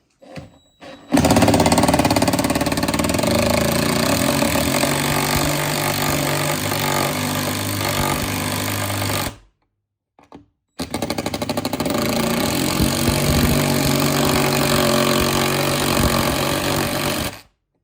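A loud, continuous whirring power drill driving screws runs for several seconds, briefly stops, then runs again with a steady grinding drone.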